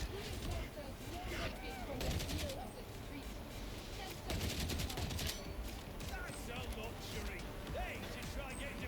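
Gunfire in the video game Warhammer 40K Darktide as an ork is shot: repeated rapid bursts crackle over a busy combat din, with a voice talking.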